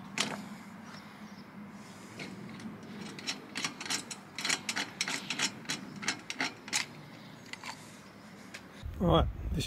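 Ratcheting clicks and small mechanical taps come from screwing a battery fitting onto a custom lowrider, a run of close, irregular clicks with a short scrape near the end, over a low background hum.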